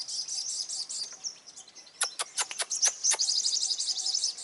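Young sunbirds chirp in a garden in Vietnam's Mekong Delta, a run of sharp, high, rapid tweets close by, bursting out in quick clusters over faint trilling.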